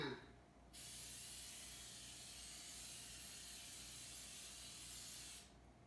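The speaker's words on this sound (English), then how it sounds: "Some non-stick spray." Non-stick cooking spray sprayed into a pie pan, one steady aerosol hiss lasting several seconds, close and faint.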